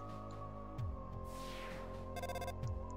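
Electronic phone ringtone from the video game Undertale, a steady synthetic ring with repeating bright chimes lasting the whole stretch, close and moderately loud over game background music.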